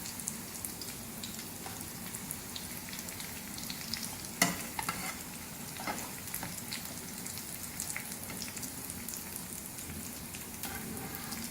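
Vegetable kebabs, browned light golden on both sides, fry in a pan with a steady crackling sizzle, a sharp clink or scrape of a utensil near the middle.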